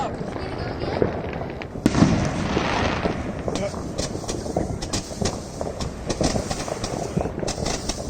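Fireworks bursting in a night sky during a celebration under a penumbral lunar eclipse, a continuous barrage of crackling and booming explosions with sharp louder bangs, while people cheer and talk throughout.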